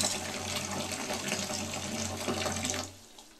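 Water runs steadily from a tap into a bathtub, a loud continuous splashing rush that cuts off abruptly near the end, leaving quiet room tone.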